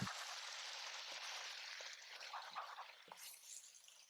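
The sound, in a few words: stirring seasoned conchs in a pot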